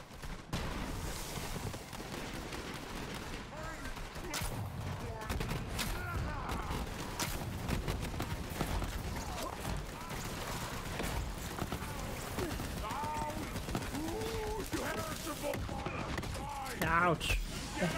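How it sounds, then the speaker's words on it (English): Gunfire in the Borderlands 3 video game rains on the player from enemies, a dense continuous barrage of shots and bursts over busy game noise, with occasional talk mixed in. "The hell is shooting at me?"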